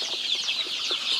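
Young Peruvian criollo chicks in a brooder give a steady, dense chorus of high, overlapping cheeps with no pauses, fairly close and continuous throughout.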